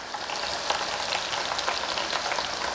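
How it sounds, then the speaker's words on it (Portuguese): Onions fry in a pan for Japanese sweet-and-sour pork, a dense, even sizzle that holds steady and fairly loud throughout with faint stirring. "Eu vou fritar apenas até as minhas cebolas começarem a querer ficar um pouco"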